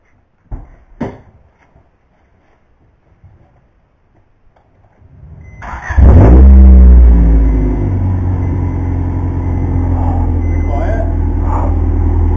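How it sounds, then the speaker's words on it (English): A car engine starts up and settles into a loud, steady idle with a low rumble, following a quiet stretch of faint clicks and handling noises, on a car with a freshly fixed exhaust. "Rev it up a tiny bit."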